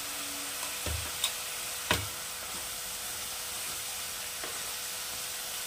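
Ginger paste sizzling in a pan for aloo dal, a soft even hiss of frying with a couple of brief spoon knocks early on, fairly quiet and steady.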